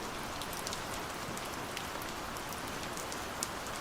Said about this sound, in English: Put your headphones on, relax, and let the rain fall.